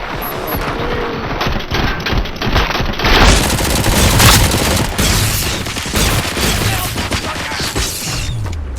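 Dense, sustained gunfire bursts and booms in RoboCop: Rogue City, loud and continuous after a quieter start, with overlapping rapid shots and heavy impacts throughout.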